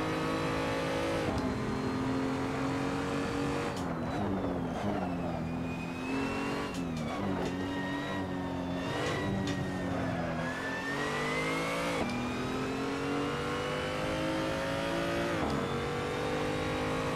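A BMW 235i race car laps the Nordschleife, its engine loud and continuous throughout, with pitch climbing and dropping through repeated gear changes and revs as it accelerates and slows.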